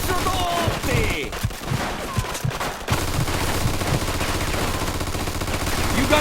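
Sustained machine gun fire rattles through a Mafia II firefight, with dense rapid bursts at first, a sharp break near the middle, then continued heavy shooting and scattered shouting underneath.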